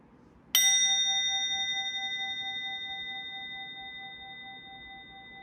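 A hand bell is struck once and left to ring out alone, its bright, clear tone slowly decaying over several seconds in a quiet room.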